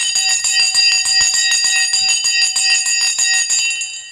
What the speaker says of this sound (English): Ring the bell in 3,